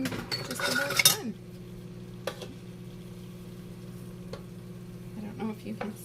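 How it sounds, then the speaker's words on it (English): A spoon clinks and scrapes against a pan of honey garlic meatballs for about a second, followed by a faint, steady sizzle and low hum with a few soft taps. "I going to give these a stir"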